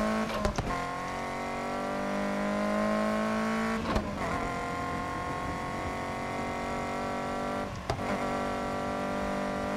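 A car in the racing video game Need for Speed Heat with a supercharger whine, a steady high engine drone with revving and gear changes, punctuated by three sharp shifts or thumps and no talking.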